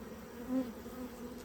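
Honeybees buzz around a nearly empty beehive frame, a low, steady droning hum with one bee passing briefly closer and louder, all fairly quiet with no talking.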